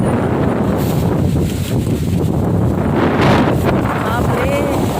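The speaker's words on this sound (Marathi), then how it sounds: "असा वारा उडतो आहे ना, तर तुम्ही पाहू शकता किती" Strong, sudden stormy wind blows at a fort, a loud continuous rush and microphone buffeting with gusts, leaves stirring in the background.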